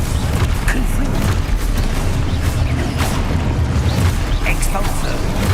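Heavy booming bursts from the Confringo fire spell in the Hogwarts Legacy video game, loud and dense amid continuous spell-casting action, with a voice shouting over the din.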